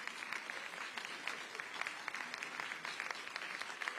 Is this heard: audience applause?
yes